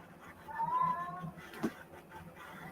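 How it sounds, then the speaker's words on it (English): A pet cat gives one drawn-out meow at moderate distance, followed by a brief faint sound, over quiet room noise. "I think that's my cat."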